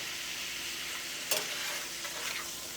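Carrots and turnips sizzle in a hot iron skillet, a steady broadband frying hiss with a brief sharper crackle of stirring partway through, close and even throughout.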